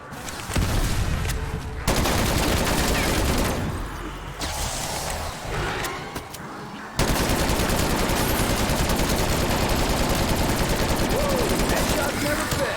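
Sustained automatic fire from a UGR submachine gun during a Cold War Zombies match on the Forsaken map, dense and loud with brief pauses, then an unbroken run of shots to the end.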